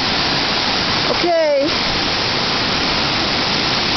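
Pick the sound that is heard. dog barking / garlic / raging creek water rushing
raging creek water rushing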